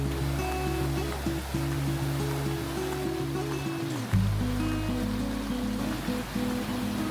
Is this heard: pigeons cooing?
no